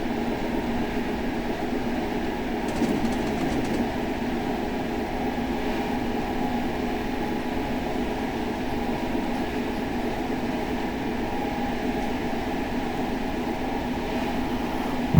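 A MARC Penn Line commuter train in the Train Sim World 2021 simulation runs between Baltimore and Washington with a steady, even interior rumble and hum, constant and unbroken for the whole stretch, with a faint click early on.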